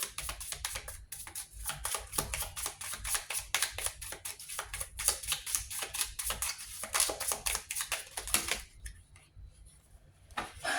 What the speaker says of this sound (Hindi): not gonna take all these cards, इसलिए लेट्स कीप शफलिंग